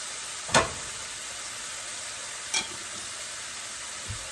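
Winter vegetable bhaji frying in a pan gives a steady, bright sizzle, broken by two sharp scrapes of stirring and a faint third knock near the end, close by with no voices.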